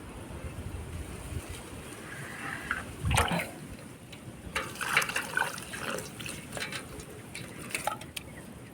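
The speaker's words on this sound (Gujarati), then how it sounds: "હવે પાણી નાખી દઈએ આપણે" Water splashes and trickles into a cement mix during construction of a small outdoor platform, a quiet, uneven pouring with soft splashes and a louder slosh partway through.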